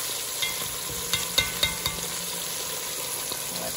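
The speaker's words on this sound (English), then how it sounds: "I'm gonna go ahead and put that in my oil. And I'm just gonna brown it on each side" Osso buco browns in hot oil with a steady sizzle and crackle, broken by a few sharp spatters and clatters near the pan.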